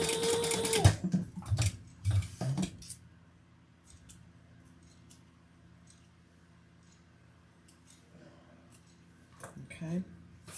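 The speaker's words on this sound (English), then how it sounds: "we're going to sew this end together how she tells you to" A sewing machine stitches the end of a fabric handbag in short, loud whirring bursts during the first few seconds. After a long quiet stretch with faint ticks, another brief burst comes near the end.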